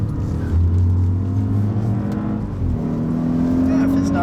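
An Audi S8 engine rumbles and its revs shift as the driver gears down entering a corner on a track. The engine drone is loud and close, heard from inside the car, with talking over it.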